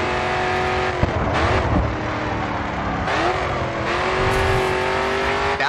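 Race car engine in the video game Grid 2, revving hard and loud under full throttle, with rising pitch sweeps as it shifts gears and a brief tire squeal, continuous with no talk.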